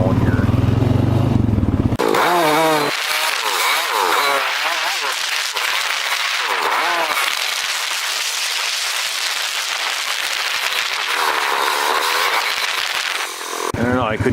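A motorcycle engine runs loudly and steadily while being ridden from a garage, its revving rising and falling throughout with a brief pause near the start and end.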